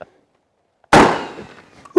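A single loud shotgun blast firing high brass 15-pellet magnum double aught buckshot outdoors, a sharp crack that rings out and decays over about half a second, followed by a brief click.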